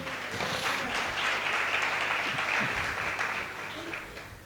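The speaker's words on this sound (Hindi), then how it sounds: "ताली बजा के प्रभु को धन्यवाद।" A church congregation claps together in thanks to God, a dense, sustained wash of applause filling the room, steady and close, fading slightly toward the end with faint voices mixed in.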